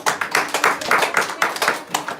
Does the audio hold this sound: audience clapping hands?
yes